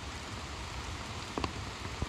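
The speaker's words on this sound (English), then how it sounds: "It has been raining a little bit." Light rain patters steadily on an umbrella during a hike on a Smokies trail, a soft even hiss with a few distinct drops, and no talk.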